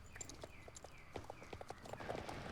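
Pony hooves clip-clopping in the horse-riding video game Star Stable, a quick, even trotting rhythm of close, light hoof beats with a soft ambient backdrop.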